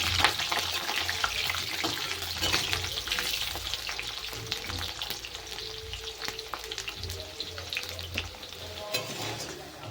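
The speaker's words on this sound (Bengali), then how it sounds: "এখন আমি কয়েকটা আলু ভেজে নেব আলুটাকে লাল লাল করে ভেজে নিতে হবে" Potatoes frying in hot oil, browning to a red-gold colour: a dense crackling sizzle, close and continuous, with scattered pops and light stirring scrapes, no talk.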